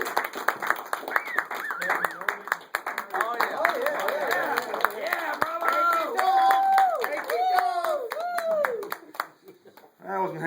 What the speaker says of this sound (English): big, warm round of applause for Mr. Jeff Bjorklund.